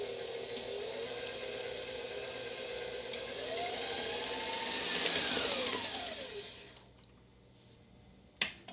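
Stand mixer with a paddle beating gluten-free coffee cake batter, a steady high motor whine that rises and falls in pitch, then cuts off, leaving quiet before a single sharp knock near the end.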